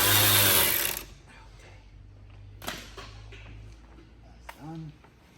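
A power tool briefly whirs while removing a bolt on a McLaren rear quarter, a loud short buzzing burst up front, followed by quieter clicks and shop noises with a voice murmuring.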